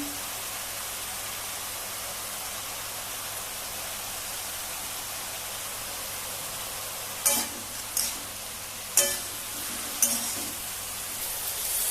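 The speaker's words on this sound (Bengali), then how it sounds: "বেগুনটাকে এইভাবে ফোড়ন দিয়েছি, এইভাবে মিশিয়ে নিতে হবে" Eggplant frying in hot oil with tempering spices for a bitter eggplant dish: a steady, even sizzle runs throughout, joined near the end by four sharp clanks of a spoon stirring against the pan.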